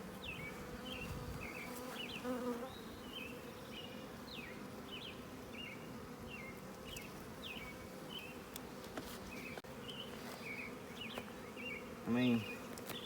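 A swarm of honeybees at a hive gives a continuous close buzzing hum, with repeated chirping bird calls sounding over it in the background.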